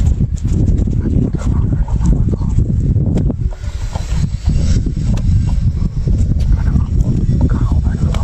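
Dog tussling with wolves over its food, a dense, loud scuffle of growls, snarls and thumping movement running continuously up close.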